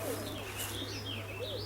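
Roller pigeons cooing in a loft, soft rolling coos and chirps over a steady low mains hum, close but faint.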